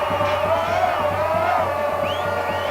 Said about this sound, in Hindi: राजधानी यरूशलेम की सड़कों पर लोगों की भीड़ ऐसी उमड़ी कि वहां पैर रखने तक की जगह नहीं बची